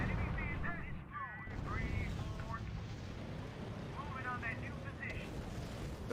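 In a R.U.S.E. battle, muffled gunfire and artillery rumble steadily at a distance while a voice speaks over the din and short radio-like chirps come and go.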